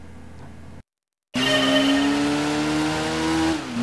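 A Corvette Grand Sport race car in Gran Turismo 2 roars with a steady, loud engine note and rising harmonic whine, after a brief silent gap, running close and continuous with slight tire squeal.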